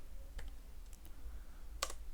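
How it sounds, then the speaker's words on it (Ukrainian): Someone types a command on a computer keyboard running Kali Linux, a few sparse, quiet key clicks spaced irregularly over a low background hum. "Для цього прописуємо команду apt"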